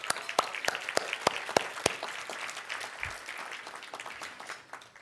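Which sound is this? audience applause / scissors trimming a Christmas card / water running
audience applause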